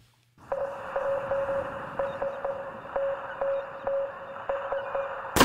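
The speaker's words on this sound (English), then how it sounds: "With some Morse code." Morse code beeps in a song: a steady run of short, clear electronic tones in an irregular dot-dash rhythm over a low backing hum, close and distinct, ending with a louder burst.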